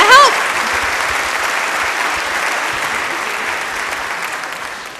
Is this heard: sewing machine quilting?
no